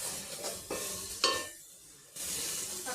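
Fresh mint and coriander leaves hit a hot frying pan with fried ginger-garlic paste and spices for a biryani, giving a steady close sizzle broken by scraping stirring strokes, with no talking.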